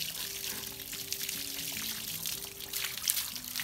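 Water is poured over a large broad-breasted turkey before scalding, a steady soft splashing and trickling that runs continuously at moderate distance with a faint low tonal hum behind it.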